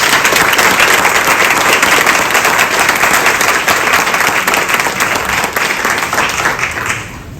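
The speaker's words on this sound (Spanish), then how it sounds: "Le pido un caluroso aplauso para los dos" Loud, dense applause from a book fair audience in Miami welcoming author Zoé Valdés and Alejandro Ríos, steady throughout and tapering slightly at the end.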